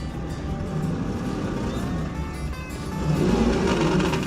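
A 2026 Honda Passport TrailSport on a three-wheel slip test, with only the front right wheel on the ground, drones with steady engine and tire noise that swells louder near the end, no voices present.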